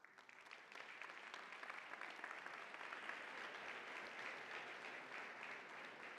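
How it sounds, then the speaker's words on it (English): Sustained audience applause at a local community event, steady dense clapping from a sizable crowd that fills the whole stretch without pause, fairly even in loudness throughout. "Let's give them a big round of applause."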